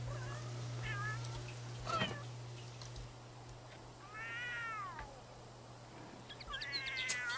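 Cats in The Sims 3 meowing a few times, with a distinct drawn-out meow mid-clip and more at the end, fairly soft over a quiet background with a faint hum and brief chirps.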